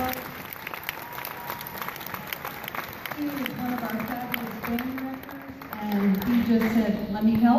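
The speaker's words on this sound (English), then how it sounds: "So if you give him a round of applause" A high school orchestra audience applauds their drum player, steady dense clapping from a crowd in a concert hall, with people talking over it and the applause swelling toward the end.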